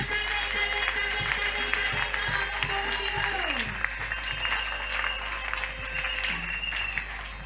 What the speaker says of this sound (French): Acclamez très très très fort